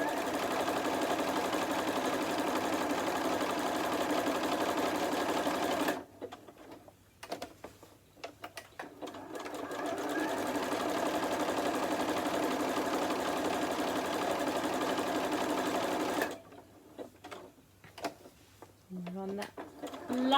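A sewing machine stitches a star place mat in two long steady runs of whirring, each stopping for a pause with small clicks and handling as the fabric is pivoted.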